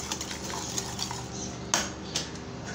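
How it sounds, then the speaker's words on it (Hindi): A spoon works through potato raita with onion, roasted cumin, coriander and mint in a bowl, giving close scraping and stirring with a couple of sharper clinks against the dish. "अब हम इसको अच्छे से करेंगे मिक्स।"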